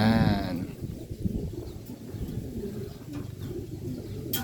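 Pigeons in a loft give soft, low cooing calls close by over a few seconds of rustling background.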